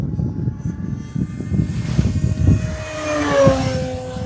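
An E-flite Conscendo 2 m RC glider's electric motor runs under power in flight, a rising propeller whine building over a few seconds against outdoor wind noise and handling thumps, moderately close.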